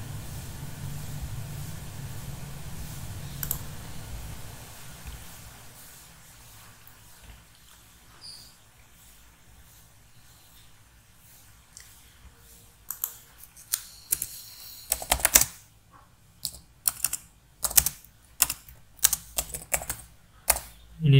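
Fingers type code on a computer keyboard, starting faint and sparse and then building into quick, loud clusters of close key clicks in the latter half, with no talking.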